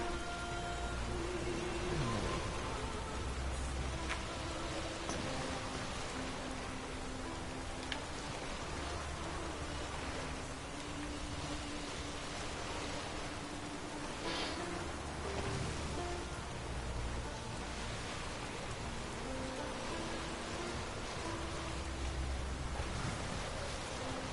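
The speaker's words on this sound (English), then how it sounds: "I like the rain on the screen like that" Constant rain ambience in The Witcher 3: Wild Hunt, a dense even wash of falling drops with no voices.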